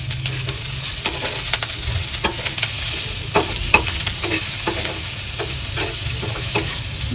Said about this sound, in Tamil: அனைத்தையும் போட்டு நன்றாக வதக்கணும்.